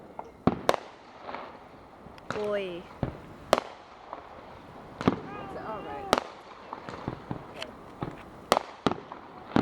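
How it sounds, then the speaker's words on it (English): Fireworks shooting into the air and bursting in a string of sharp pops and bangs, some near and some distant, at irregular intervals while people talk. "There's like fireworks go."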